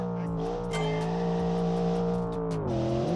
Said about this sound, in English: This engine, the pistons are getting hammered with boost.